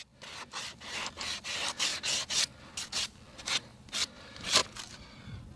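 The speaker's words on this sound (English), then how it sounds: "watching me sand away on the hoof walls" A horse's hoof wall is sanded by hand in steady back-and-forth strokes, a close, rhythmic scratchy rasping with brief gaps between passes.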